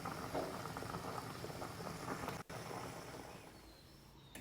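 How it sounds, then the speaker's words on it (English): Ginger and lemon boil hard in a pot of water, a steady, dense bubbling and rolling close by that carries on without a break and with no voices. "you put it in a boiling water and boil it for 10 to 20 minutes until it's done"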